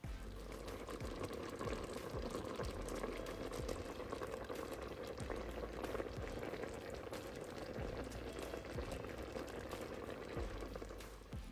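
Water pours into a bubbling pot of hominy corn porridge, a steady gurgling simmer with splashing liquid, fairly quiet and continuous with no talking.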